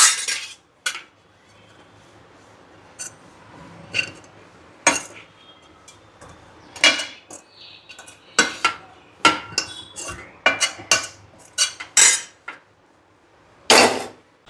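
Steamed rice-flour dough being scraped out into a large vessel: sharp, irregular metallic clanks and scrapes of a utensil against the pots, with quiet pauses between the hits and no talking.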